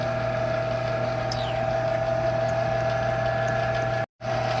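A metal lathe runs at low RPM with a slow feed while straightening a tube, giving a steady mechanical hum with sustained tonal whine, a brief glide, and a short dropout near the end.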